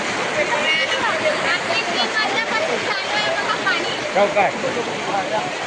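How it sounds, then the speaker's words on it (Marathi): Floodwater rushes through a residential neighbourhood after heavy rain, a dense, continuous roar of fast-flowing water that stays loud and steady throughout. "अतिशय एक भयानक परिस्थिती पाण्याचा प्रवाह जास्त"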